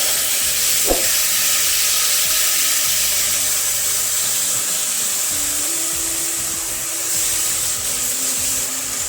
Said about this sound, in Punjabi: ਮਸਾਲਾ ਭੁੰਨਦੇ ਆ ਮਸਾਲੇ ਨੇ ਤੇਲ ਛੱਡ ਦਿੱਤਾ